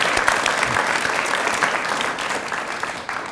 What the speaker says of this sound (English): I'd like to start off by asking for a round of applause for the Apex planning team